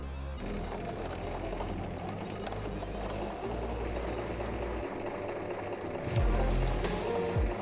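A sewing machine stitching a ribbon into a parasol bag seam runs in a steady continuous whir, close and fairly loud, with a few brief squeaks near the end.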